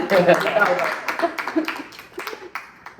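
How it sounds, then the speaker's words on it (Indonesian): A school OSIS event audience gives a short burst of clapping, dense at first and thinning to scattered claps within a few seconds, with voices over it. "Tepuk tangan dulu"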